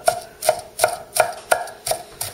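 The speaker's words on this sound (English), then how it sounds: "chopping coleslaw." A knife chops coleslaw steadily on a cutting board, seven crisp even strokes in a regular rhythm, close and clear with no talking.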